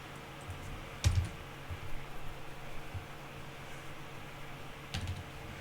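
Light typing on a computer keyboard into a notepad, scattered soft key clicks with a couple of sharper taps over a steady background hiss.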